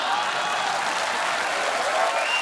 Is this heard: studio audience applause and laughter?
yes